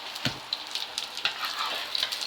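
Mackerel patties fry crisp in a pan of hot oil, a steady close sizzle with sharp crackles and pops spattering throughout.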